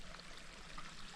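A small creek at a Sierra campsite trickles and burbles steadily nearby, a continuous close wash of running water with no voices.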